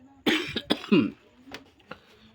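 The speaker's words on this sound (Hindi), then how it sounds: "पता नहीं क्या खांसी आज ज़्यादा हुई है" A few sharp coughs close up, one after another, followed by quieter throat sounds and faint breathing.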